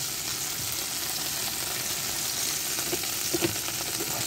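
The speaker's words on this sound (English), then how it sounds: "You can hear that sizzle." Sweet Italian sausages sizzle steadily on a grill at close range, a dense even hiss broken by a few faint pops and taps near the end, with no talking.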